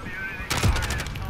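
A gunshot headshot rings out in Call of Duty: Modern Warfare, with a sharp, loud crack followed by a short burst of rapid shots over game background sound.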